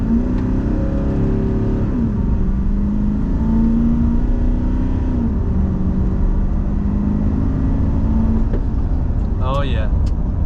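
Nissan Titan XD 5.0L Cummins diesel with a CFT intake pipe, revving in a steady, loud rumbling drone that swells in pitch around a few throttle blips, with a brief voice near the end.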